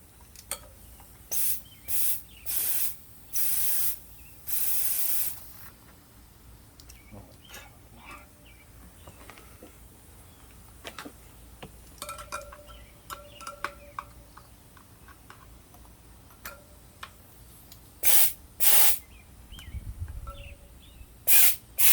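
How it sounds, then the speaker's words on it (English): Several short bursts of hissing air, each a second or so long, from a leaking tire inflator chuck on a Lectric XP e-bike tire, with quiet stretches and faint clicks between them, and a couple more bursts near the end. "if you hear air, it's probably from my chuck leaking"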